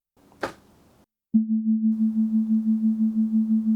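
A steady low synth tone swells and dips in a quick, even tremolo from a 6 Hz sine-wave LFO on the amplitude, pulsing about six times a second after a brief soft thump and pause.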